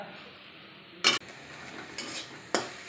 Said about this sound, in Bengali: এই ফুলটাকে ভালোভাবে কাঠখোলায় ভেজে নিতে হবে একটু নুন দিয়ে